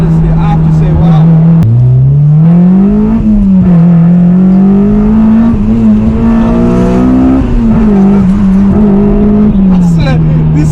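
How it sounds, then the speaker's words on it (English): A 2006 Honda Civic EP3 Type-R with a Stage 2 tune revs hard, its loud engine note climbing and dipping through high revs up close while people talk over it. "It's such a naturally high revving engine."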